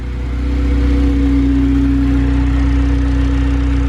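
Steady, close idle of a K20A2 engine in a Honda CRX running without an idle control valve near 900 rpm; the loud even droning swells slightly at the start, then holds constant with no voices.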